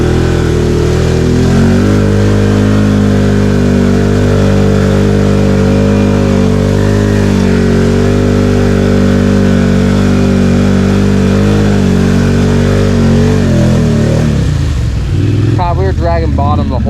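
A 2021 Honda Rubicon ATV on Outlaw 2 tires churns through deep mud, its engine droning loud and strained at steady revs for a long stretch, then easing off near the end as a brief voice comes in.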